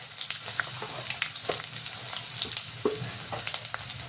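Ginger-garlic paste with curry leaves sizzles steadily in a pan for an ambadi (roselle leaf) dish, a close continuous frying hiss broken by a few soft stirring scrapes, with no talking.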